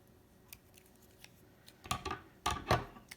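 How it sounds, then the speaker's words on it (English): Scissors snip a crochet yarn tail on a flower garland, giving a few quiet clicks followed by three sharper, closer cuts near the end, with no talking. "I'm going to take my scissors and trim"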